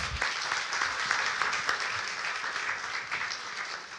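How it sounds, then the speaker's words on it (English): Applause from an audience at a mental health and well-being talk, a steady dense patter of clapping that fills the whole clip at moderate level, with no talk over it. "Can we just give him a clap?"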